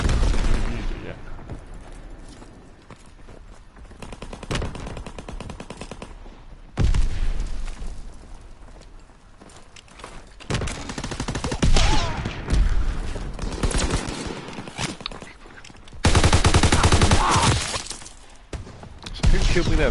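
Gunfire from a World War II–era gun in Call of Duty WWII, heavy loud bursts and booms breaking through dense battle noise, with a player talking at times in between.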